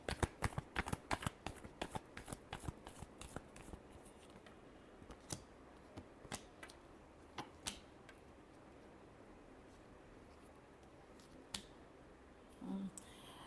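Tarot cards being shuffled, a rapid burst of crisp riffling clicks at the start that thins into scattered single snaps and soft shuffles, close and fairly quiet, with no talk.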